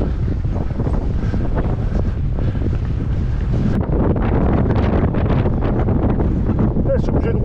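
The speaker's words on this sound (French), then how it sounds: "Ah, c'est une torture ce vent." Strong wind buffets the microphone while mountain biking in the hills of Roses, Spain, a continuous loud rumbling roar gusting unevenly throughout.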